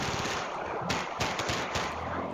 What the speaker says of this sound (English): Rapid-fire gunshots are unleashed